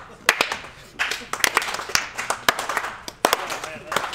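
A few people in a live audience clap in scattered, uneven bursts, separate sharp hand claps rather than a full ovation, with talk mixed in between.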